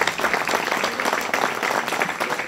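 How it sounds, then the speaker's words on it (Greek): Audience applause for a singer at a Giovanneia 2025 event, dense and steady clapping from a crowd filling the whole stretch, with a faint voice beneath. "Ένα χειροκράτημα να περάσουμε, είναι εξαιρετικός."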